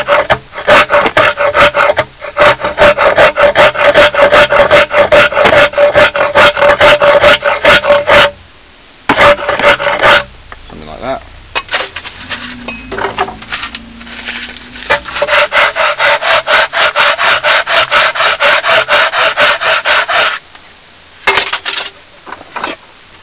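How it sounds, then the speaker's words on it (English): A rasp files a wooden artist's palette held in a vise, loud close rhythmic scraping strokes in long runs broken by brief pauses. "go back to the rasp."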